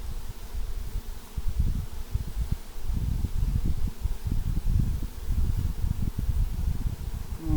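A steady, dense buzzing of many honey bees at an open hive fills the clip, low and continuous, with soft rustling mixed in and no talking.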